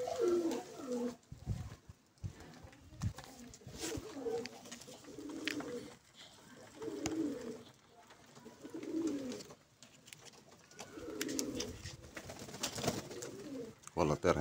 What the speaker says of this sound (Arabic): هسه تعرفون انتم الطيور تطير منا ومنا